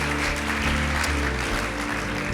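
A church congregation applauds a guest pastor, steady dense clapping filling the room, moderately loud, with a low hum underneath and no clear speech.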